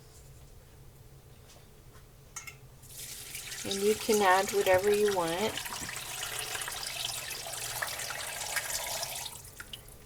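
A tap runs water into a pot in a kitchen while beef bone broth is made, a steady rushing flow that starts midway and continues, with a person talking over the start.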